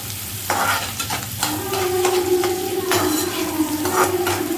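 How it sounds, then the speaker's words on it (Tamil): Mushrooms with a little salt are sautéed in a pan for mushroom manchurian, a loud close sizzle under repeated scraping strokes of a spatula stirring the pieces, with no speech. "இப்போது செஞ்சுக்கலாம். நல்லா வதக்கலாம்."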